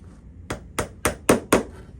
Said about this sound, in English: What we're going to do is drive these pins down in that handle right there right quick.